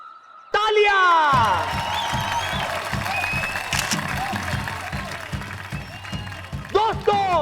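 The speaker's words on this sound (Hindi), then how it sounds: "तालियां।" Studio audience applause on the set of a Hindi superhero TV series, a dense, steady wash of clapping that bursts in loudly and holds, layered with background music and bright swooshing effects.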